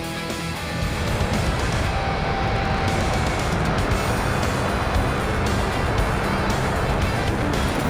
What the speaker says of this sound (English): Let's try this launch again, and I'm going to try it with the afterburners.